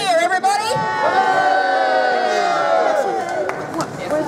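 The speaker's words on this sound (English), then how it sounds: "I think we should give that speaker a big cheer, everybody." A crowd at a protest in London cheers and shouts for a speaker, with a dense wall of raised voices and whoops sustained throughout, loud and close.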